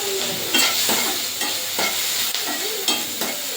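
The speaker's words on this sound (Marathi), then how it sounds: "त्यामध्ये आता आपल्याला घालायचं आहे टोमॅटो." Tomato sizzles in hot oil alongside lightly browned onion in a pan, a continuous close frying hiss broken by regular stirring scrapes every half second or so, no voices.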